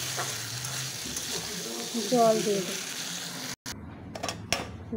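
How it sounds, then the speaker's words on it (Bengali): Potatoes frying in spice masala for a rohu fish curry with brinjal, a continuous close sizzle with stirring scrapes and a short pause, while a voice talks briefly over it. "এবার আলুটা দিয়ে দেবো। আলু দেওয়ার পর একটু কষিয়ে"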